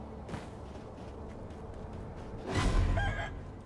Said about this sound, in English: Nope, I'm not gonna fight the chicken.